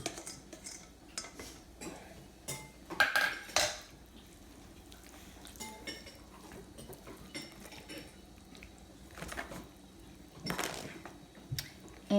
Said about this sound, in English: Then the ground beef that we cooked up earlier, throw that right on over here into the mix.